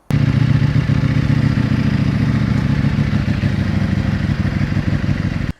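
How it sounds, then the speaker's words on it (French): Ducati Panigale V4S motorcycle engine running close and loud, a steady rough mechanical drone with clattering texture that starts abruptly and cuts off at the end. "Aujourd'hui, on essaye la Ducati Panigale V4S."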